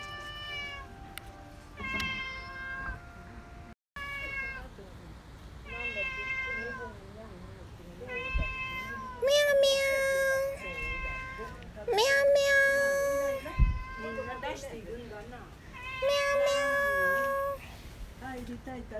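A cat meows repeatedly in clear, fairly close calls, some short and some drawn out, with gaps between them and a person talking quietly in the background.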